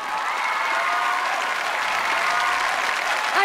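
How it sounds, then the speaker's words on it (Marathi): A studio audience at a Marathi TV variety show bursts into loud, dense applause for Nashik city, a steady wash of clapping held throughout. "एकदा जोरदार टाळ्या होऊन जाऊ दे"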